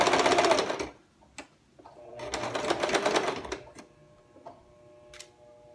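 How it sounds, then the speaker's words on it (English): A sewing machine stitches a curved waistband, slowing as it crosses a seam, in two bursts of rapid, close mechanical whirring and ticking, separated by a pause with a few faint clicks. "I'm just going a little slower because I'm going over a seam, and I want to make sure that those seams stay open"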